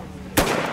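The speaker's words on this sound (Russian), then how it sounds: "Плечо прижал, огонь, засылаем патрон." A replica World War II rifle fired at a historical reenactment shooting range, one sharp close gunshot that cracks out suddenly after a low murmur and then rings briefly as it fades.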